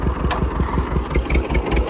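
A tractor engine chugs under load while it pulls a plough through a field, with a close, loud, rhythmic low-pitched thumping and some rattling.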